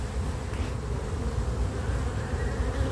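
A small honeybee colony in an apiary hums with a steady, dense buzz throughout, close and unbroken, with no voices.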